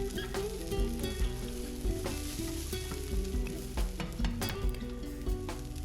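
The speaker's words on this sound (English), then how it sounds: "And we're gonna throw the onions in." Onions tossed into a hot pan crackle and sizzle loudly and densely, with scraping and clattering throughout and no talking.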